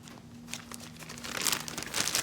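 A 1-gallon Ziploc plastic bag crinkles and rustles up close in irregular bursts that grow louder toward the end, over a faint steady hum.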